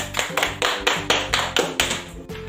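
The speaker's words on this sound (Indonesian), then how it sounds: "Tepuk tangan untuk kelompok 1." Classroom students clapping for a group in a rhythmic pattern, with sharp, evenly spaced bursts of claps that sound close and fairly loud.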